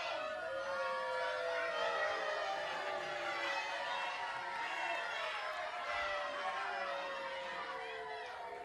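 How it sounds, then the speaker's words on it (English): A big crowd at a Mid-Atlantic wrestling event roars in a dense, sustained wall of noise with rising and falling cheers and whistles, loud and unbroken for the whole stretch. "It's like a big crowd, isn't it?"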